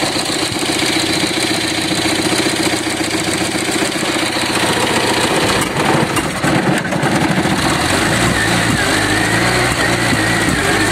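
A Dacia 1310 car engine runs loud and close with a steady, rough idle and a slight surge partway through, its carburetor leaking fuel and the battery weak.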